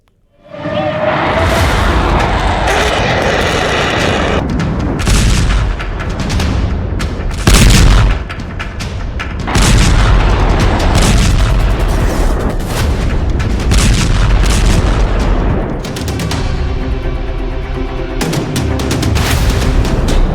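Missile strikes and artillery fire: a sequence of loud, heavy booms and blasts with rumbling tails, repeated every second or two across twenty seconds, some sharper cracks among them, with no voices.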